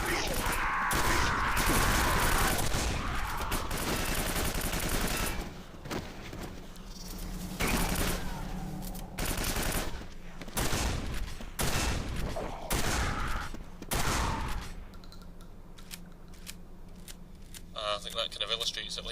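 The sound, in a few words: shotgun blasts in the video game Quake 4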